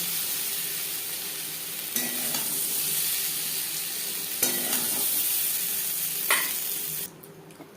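Pointed gourd pieces fry in oil in a wok, giving a steady, close sizzle broken by a few scraping stirs. The sound cuts off abruptly near the end, with no voices.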